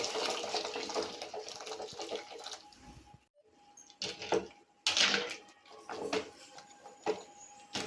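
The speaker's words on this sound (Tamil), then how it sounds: "இப்போ இது கூட நல்லா சூடாக இருக்க தண்ணியை நம்ம இதில் சேர்த்துக்கலாம்" Hot water poured onto meal maker soy chunks for a pepper fry dish, a broadband rushing pour near the mic that runs for a few seconds, breaks off, then resumes in shorter splashy bursts.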